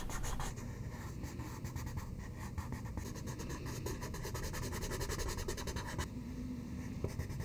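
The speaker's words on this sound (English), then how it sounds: "We're gonna continue the drawing that I started." A pencil scratches and rubs across handmade 100% cotton watercolor paper, close and quiet, in short repeated strokes with no one talking.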